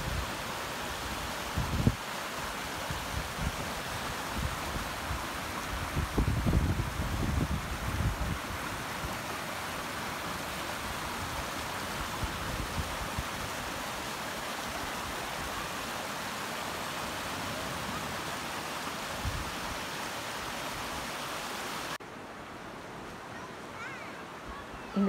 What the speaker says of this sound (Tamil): அந்த வாட்டர் ஃபால்ஸ் வந்து டைரெக்டாக பீச்சில் மிக்ஸ் ஆகுது.